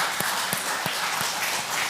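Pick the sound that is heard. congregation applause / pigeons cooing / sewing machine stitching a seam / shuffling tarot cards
congregation applause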